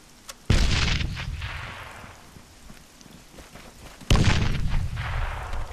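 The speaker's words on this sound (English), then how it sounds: "Shots from the northeast or so." Two heavy booming gunshot or artillery blasts in the video game ArmA 3, each a sudden loud crack followed by a long rolling echo that slowly fades, spaced about four seconds apart with no talking.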